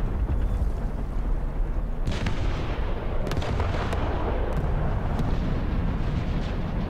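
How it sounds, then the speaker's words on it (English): 15 cm self-propelled artillery in War Thunder firing amid a constant rumble of battle, with several sharp booming shots standing out at intervals against the dense, loud background. "Ho-Ro's trying to reload and the 15 centimeters take another shot"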